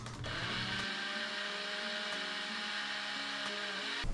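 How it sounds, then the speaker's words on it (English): A blender whirs steadily as it blends strawberry jam with gelatin, a loud continuous motor drone with a bright harmonic whine, running alone from start to finish with a brief rattle at the end. "Add 3/4 teaspoon of gelatin. Stir and blend it till dissolved."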